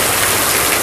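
Heavy downpour in a Botad village, a dense, loud, continuous hiss of rain with no break and no voices.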